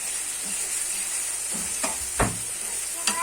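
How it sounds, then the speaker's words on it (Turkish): Tomatoes and peppers for menemen fry loudly in a pan while being stirred, a constant close sizzle broken by a few scraping spoon strokes. "Domatesimi ve biberimi birbirine karıştırıyorum."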